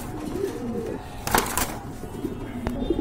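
A pair of large, feather-footed pet pigeons cooing softly in low, rolling calls, with a couple of brief rustles or flutters nearby.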